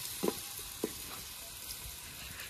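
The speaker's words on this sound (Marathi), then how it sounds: "कांदा टाकून थोडंसं तेल टाकून आपण परतून घेणार आहे." Onion frying in a little oil over a wood-fired stove gives a soft steady sizzle, with a few light stirring scrapes and clicks breaking through.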